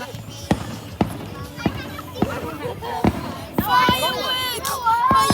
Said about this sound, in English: Watching the fireworks show. We see the fireworks.